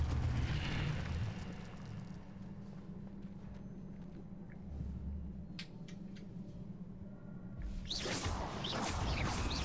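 An Incendio fire spell is cast in Hogwarts Legacy, with a soft rushing whoosh over a low background hum, a few faint crackles midway and a louder flaring burst near the end.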